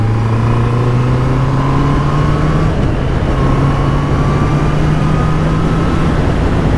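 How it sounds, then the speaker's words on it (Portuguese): A 2024 Honda CB650R E-Clutch motorcycle accelerates hard, its engine note rising steadily through the revs, loud and close with no talk. "ela sai muito bem, esta moto, pá, não há dúvida que é muito rápida a sair."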